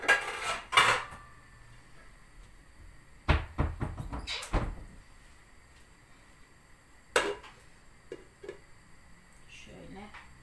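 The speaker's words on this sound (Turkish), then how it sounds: "Şuradan kapak alayım." A kitchen cupboard bangs open and shut while a metal pot lid clatters against other cookware in sharp, scattered knocks, with someone speaking between them.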